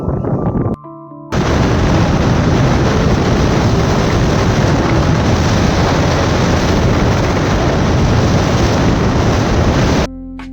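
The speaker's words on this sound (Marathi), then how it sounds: "वातावरण पण वारा बी भरपूर आहे" Loud wind roars into the microphone for several seconds out in farm fields, a dense steady rush that cuts off abruptly near the end.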